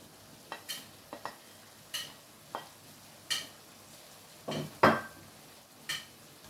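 Potato pieces are dropped into a pan of frying menudo and stirred, giving a series of soft scraping and clattering stirs with a brief louder sizzle and splash midway, close and fairly quiet.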